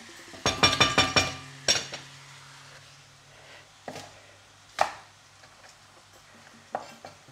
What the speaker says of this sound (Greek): Ψιλοκόβουμε.